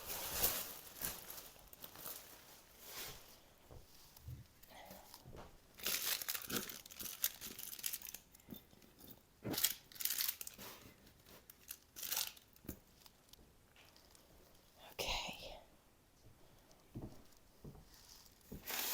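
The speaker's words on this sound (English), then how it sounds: "This is just Christmas wrapping paper." Christmas wrapping paper is crumpled and handled indoors during a living-room declutter, with irregular crinkling and rustling bursts, some sharper crackles, heard close and fairly faint with no talking.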